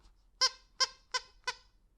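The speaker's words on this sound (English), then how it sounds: "Here, you like the squeaky? You like the squeaky?" Four sharp squeaks from a rubber dog toy, evenly spaced about a third of a second apart, close and fairly loud with no talking.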